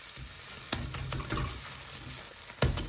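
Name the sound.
paratha frying in a pan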